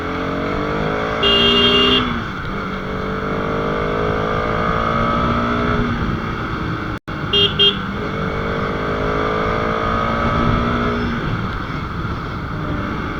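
A 2024 Bajaj Pulsar RS200 motorcycle is ridden with a steady engine drone, rising through the revs in repeated gear-by-gear pulls, with strong wind rush throughout and a brief dropout near the middle.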